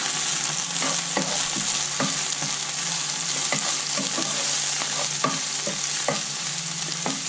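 Onions frying in a pan with a little vinegar added, a continuous bright sizzle broken by repeated scraping stirs at a steady, unhurried rhythm, close and loud with no talking.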